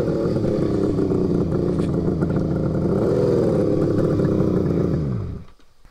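A Suzuki GT550 two-stroke triple motorcycle engine runs steadily and loud up close, with a rough burbling idle and slight rise in revs before cutting off and falling silent near the end.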